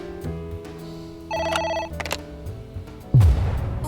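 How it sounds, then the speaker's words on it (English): A telephone rings in a video game, Ai: The Somnium Files, with a repeated electronic ring in short bursts over background game music, followed by a sudden loud thud. "A phone. Should I pick it up?"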